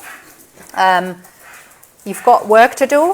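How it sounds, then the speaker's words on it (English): Dogs bark and yip playfully in short bursts while a person talks nearby. "Don't worry about the dogs, they're playing."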